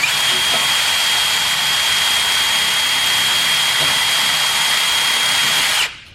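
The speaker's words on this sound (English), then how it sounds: "I'm gonna wire wheel it off real quick" Wire wheel on a power tool grinding powder coating off a car subframe, a loud, steady, close high whine with a sharp rushing hiss that cuts off abruptly near the end, no talking.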